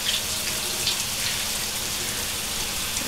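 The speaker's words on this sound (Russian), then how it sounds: "Она душ принимает." Shower water runs in a steady, loud hiss throughout, close and unbroken, with no voices, in the video game Beyond: Two Souls.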